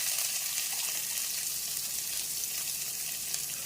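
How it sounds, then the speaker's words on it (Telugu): Onions sizzle steadily in hot oil in a pan, a dense, even hiss of frying that holds at the same level throughout with no voices. "ఆనియన్ ఒక 2 మినిట్స్ ఫ్రై అవనిద్దాము"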